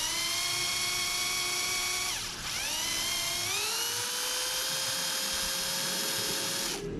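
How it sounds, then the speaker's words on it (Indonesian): A battery hand drill boring into plastic whines at a high pitch, bogging down briefly as it bites, then spins steadily again with a clean motor hum. "Ini saya pakai bor tangan ya, yang bor baterai gitu."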